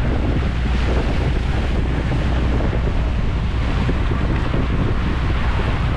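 A small boat's engine runs steadily at sea on the way to a payao fish aggregating device, its low drone continuous beneath heavy wind buffeting the microphone and the wash of water.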